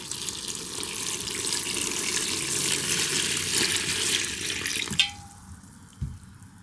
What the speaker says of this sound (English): Okay, I have a pitcher of water.